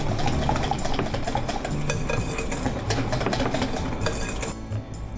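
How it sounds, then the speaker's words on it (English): Egg, milk and matcha doughnut batter mixed briskly in a bowl, a continuous rapid whisking clatter against the sides, fairly loud and close with no talking. "Give it a nice mix."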